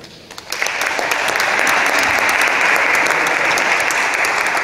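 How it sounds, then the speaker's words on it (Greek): Audience applause at a Greek award ceremony honoring composer Eleftherios Kalkanis swells in after a brief quiet moment, then holds as loud, sustained, dense clapping throughout. "και να τον χειροκροτήσουμε"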